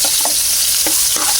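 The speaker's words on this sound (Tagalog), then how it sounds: "Saka ilagay na natin ang kanyang sibuyas para sa buhay na maaliwala." Onions sautéing in a hot pan for sardine sinigang give a bright, close sizzle with a few quick stirring clinks and scrapes, with no talking.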